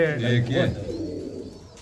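A pigeon coos softly a couple of times nearby, with a brief faint voice in the background, fading out toward the end.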